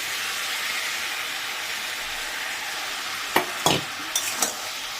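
Ground spice paste stir-fried in a pan for a jackfruit and prawn curry, a steady loud sizzle throughout with a few sharp scrapes of a spatula near the end, no talking.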